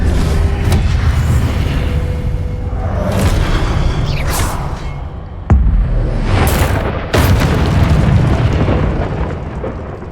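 Confringo spell blasts in the video game Hogwarts Legacy, a continuous barrage of loud booming explosions with whooshing streaks and sharp bursts, dense and close, with no talking.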